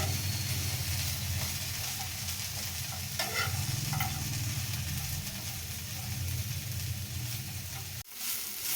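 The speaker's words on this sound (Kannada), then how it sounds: "ನಾವು ಫ್ರೈ ಮಾಡ್ಕೊತಿದ್ದೀವಿ." Grated coconut for kurma fries in a pan, giving a steady close sizzle and hiss with occasional scraping stirs and a brief clatter near the end.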